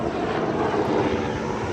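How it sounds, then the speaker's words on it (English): Helicopter flying overhead outdoors, a continuous rotor drone and throbbing engine rumble, fairly loud and steady throughout the short stretch with no talk over it. "Got a nice helicopter going on."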